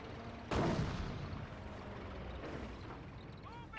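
A 57mm M1 anti-tank gun fires once in Company of Heroes, a single loud blast with a long rumbling tail, followed by fainter battle noise and a softer second report.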